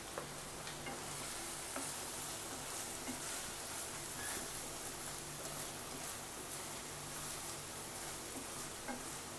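Onion paste frying in hot oil with ginger and garlic in a pan for paneer posto, a steady soft sizzle and crackle continuing evenly throughout, faint and close, with no talk.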